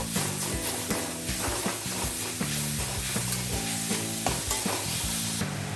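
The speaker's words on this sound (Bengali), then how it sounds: "নারকেল কুড়ো দিলাম এবার সাইডে যে গুড়টা রেখেছি গুড়টাও আমি দিয়ে দেবো দিয়ে ভালো করে মিক্স করব" Grated coconut and jaggery are stirred and fried together in a pan, giving a steady sizzle with repeated scraping strokes, while background music plays throughout.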